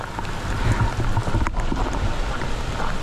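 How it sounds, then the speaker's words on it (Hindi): Heavy monsoon rain pours through jungle near Vasundhara Waterfall at Bhandardara, a dense, steady hiss and patter filling the whole stretch with no voices. "बारिश और बहुत ज़्यादा बढ़ गई है,"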